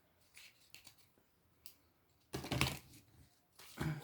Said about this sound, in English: I'll shuffle the deck one more time.